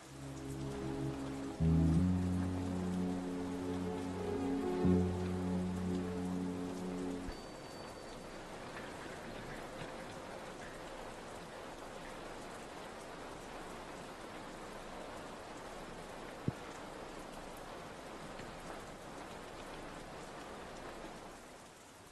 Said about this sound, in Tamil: வெளியில மழை பெஞ்சிட்டு இருக்கு